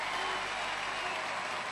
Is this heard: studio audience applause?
yes